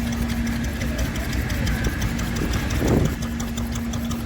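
A small Fowler engine runs at a rally with a steady mechanical chug and a low hum, close by, under a brief voice and outdoor crowd murmur.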